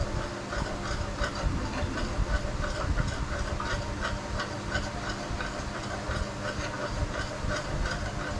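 Ingredients sautéing in melted margarine in a frying pan give off a steady, loud sizzling hiss that runs unbroken from start to finish, with no voices.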